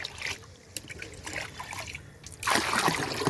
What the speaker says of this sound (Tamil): நம்ம இதில் இப்போ ரெண்டு டப்பா மொண்டு ஊற்றிக்கலாம்